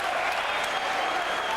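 A boxing arena crowd at the Chris Byrd vs Vitali Klitschko fight reacts to a punch with loud, dense applause and cheering that fills the space without a break.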